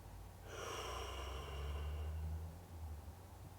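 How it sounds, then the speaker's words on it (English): A person slowly and deeply exhales air out of the lungs, a soft, breathy rush that starts after a brief pause and fades out over a couple of seconds, close and quiet. "breathe out deeper or more fuller than normal. Push the air out of your lungs."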